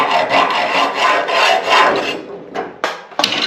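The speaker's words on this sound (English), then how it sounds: "I'm just going to use a hacksaw and we're going to cut these guys off." A hacksaw cuts through a closet rod in a series of loud, rhythmic rasping strokes up close, followed by a few sharp knocks and clunks as the cut ends.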